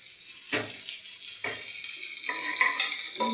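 Whole spices (cumin, bay leaf, black cardamom, star anise, cloves, peppercorns and cinnamon) roasting in hot oil for egg biryani, a steady close sizzle and crackle broken by a few louder stirring scrapes.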